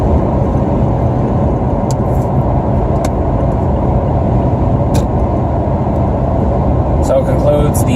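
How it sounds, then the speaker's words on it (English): Loud, constant road and engine roar inside a car cruising on Autoroute 50 near Grenville-sur-la-Rouge, Québec, a dense rumble with occasional faint clicks and rattles throughout. "lot of fucking road noise that comes into this car"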